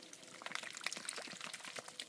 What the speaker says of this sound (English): Give them some water there.